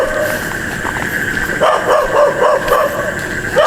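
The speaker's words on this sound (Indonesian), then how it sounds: "Ada suara anjing yang gonggong." A dog barks repeatedly in short yips and whimpers near a bamboo forest on a steep path in South Jakarta, heard amid a loud, constant background of insect-like buzzing.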